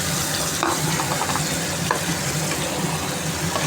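Green chili, onion and tomato frying and being stirred in a pan, a steady close sizzle throughout with scraping stir strokes, no voices.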